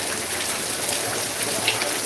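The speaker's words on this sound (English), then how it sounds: "Then when I got back home, deep south, it was raining hard." Heavy rain pours down onto a flooding residential street, a dense, loud, unbroken hiss of drops striking hard surfaces, steady for the whole stretch with no speech.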